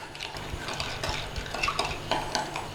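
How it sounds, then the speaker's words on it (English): A spoon scrapes and clinks around the bottom of a bowl, grinding sugar into a sauce in a continuous gritty stir, close up and fairly quiet. "I can hear all that sugar grinding up in the bottom with this spoon."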